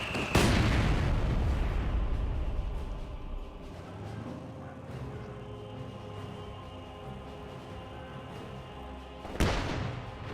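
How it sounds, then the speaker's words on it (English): A pack howitzer fires in the Company of Heroes 2 strategy game, with a loud close boom at the start trailing into a long rumbling decay, then a second heavy blast near the end. "Pack howitzer firing."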